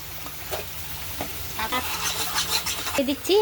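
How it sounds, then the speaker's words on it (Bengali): A spoon scrapes and stirs taro greens in a pan as they cook with a soft sizzle, giving irregular close scraping strokes at a quiet level. "আমি এখন একটু লাড়াচাড়া দিয়ে আমি কচু শাকটা নামিয়ে ফেলবো।"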